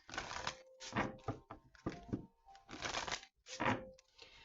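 Tarot cards are shuffled by hand in a string of crisp riffling bursts and soft slaps, close and fairly loud, with brief pauses between bursts and no talking.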